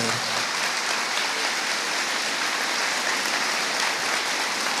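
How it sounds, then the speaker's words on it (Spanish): Church congregation applauding guests on an afternoon gathering, a dense, even wash of clapping that stays loud and constant throughout, with no voices on top. "Un aplauso para estos hermanos que nos acompañan en esta hermosa tarde"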